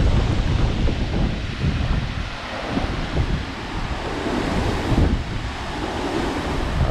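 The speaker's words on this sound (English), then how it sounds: "there's a good gust." Strong, steady gusts of wind during Hurricane Ian roar and buffet the microphone continuously, with a swelling rush around the middle, loud and close with no talk.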